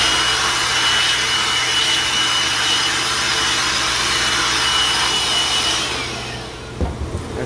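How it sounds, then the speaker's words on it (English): A blower rushes air through a dusty glycol unit condenser, giving a loud, steady broadband whoosh that fades out near the end, followed by a few faint knocks. "I did bring my blower up, so we'll blow those guys out real quick."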